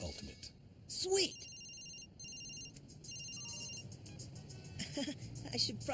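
A cell phone rings in an animated superhero series, its bright electronic ringtone repeating in short bursts over a soft background, with a brief vocal sound near the start.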